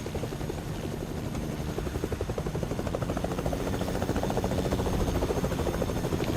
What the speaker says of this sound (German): Also das Helikopter kann man nehmen. Ja, der Helikopter kannst du noch.